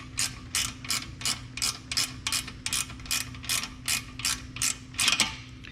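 A hand ratchet wrench turns an 8mm bolt on a KTM 890 Adventure R skid plate, giving a steady run of about a dozen close, even clicking strokes over a faint background hum.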